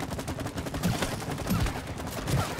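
Rapid bursts of gunfire crackle and thump in quick succession from a video game as the player shoots goop, loud and continuous across the clip.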